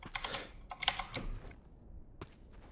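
Computer keyboard keys clattering in quick irregular bursts, picked up by a gaming headset microphone during a Black Squad match, close and fairly faint, with a short pause before a final few taps.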